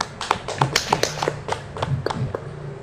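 A small group of students in a classroom applauding a presenting group, with brisk, uneven claps heard close and continuing for a few seconds.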